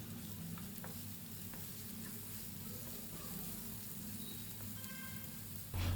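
Potatoes sizzle and fry in a pan as garam masala and salt are stirred through, a steady close crackle with soft scraping strokes and no voices.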